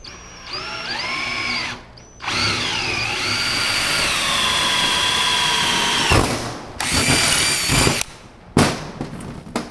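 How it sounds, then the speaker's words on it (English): A power drill with a new 3/16-inch bit whines as it bores through a sheet metal motorcycle seat pan, pitch shifting under load, followed by rattling crackles and short bursts as the bit breaks through. "I purchased a brand new 3/16 drill bit just for drilling these holes out"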